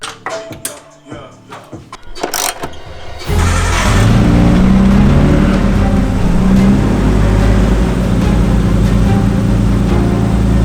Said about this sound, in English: That is the healthiest that this RB20 has ever sounded